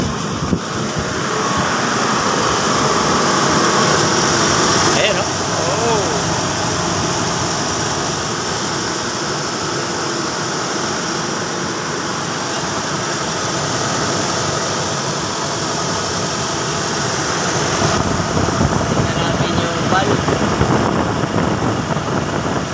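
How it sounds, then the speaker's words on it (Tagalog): A Mitsubishi Adventure's engine idles in a steady, smooth mid-pitched hum with light vibration, holding an even level for over twenty seconds with a brief change in tone partway and no talking. "Sus, ganda-ganda pa umandar nitong Adventure na to."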